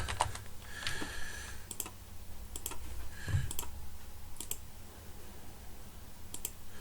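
Someone types on a computer keyboard while filling in an online form, with soft key clicks in irregular bursts and a few sharper taps at close range.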